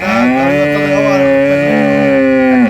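A dairy cow on a rural farm gives one long, loud, sustained moo close by, with a steady tonal bellow lasting nearly three seconds.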